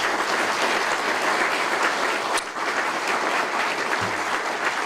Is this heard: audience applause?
yes